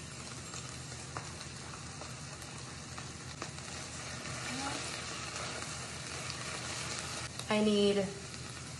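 Minced garlic sizzling in a pan with cooked chicken, a steady close crackle and hiss that goes on throughout, with a brief spoken remark near the end.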